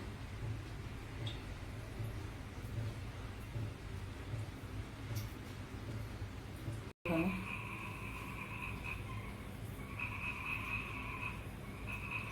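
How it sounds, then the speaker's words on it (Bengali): A steady chorus of frogs croaking outdoors at a distance, continuing after a brief cut partway through. "ব্যাং আওয়াজ হচ্ছে দেখুন ব্যাঙে কিরম ডাকছে বাইরে"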